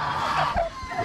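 Newly hatched turkey chicks on a small farm, soft high peeping chirps repeating close by over a faint background.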